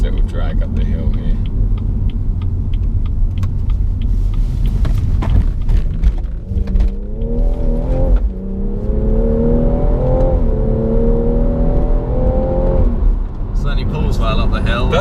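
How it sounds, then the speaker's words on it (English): A BMW M240i engine accelerates hard up a hill, building from a low rumble into a rising, clearly pitched rev with whirring, and people talk inside the car over it. "when you do put your foot down, there's no room to do it here, unfortunately, but you do get a bit of noise to go with your kick in the back"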